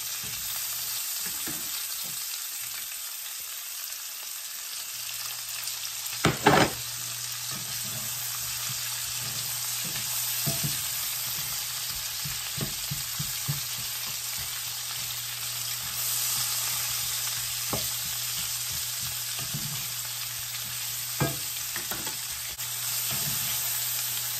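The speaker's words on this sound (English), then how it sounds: "And I'm going to saute these." A medium Vidalia onion sautéing in a pan gives a steady, even sizzle throughout, with scattered light clicks and taps of a utensil stirring it, and no talking.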